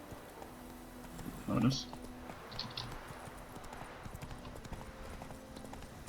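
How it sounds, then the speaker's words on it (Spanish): Horse hooves clip-clopping in The Witcher 3 as the summoned horse arrives, a short cluster of hoof sounds under a voice talking over a steady background bed. "Vamos a llamar a nuestro pequeño caballito"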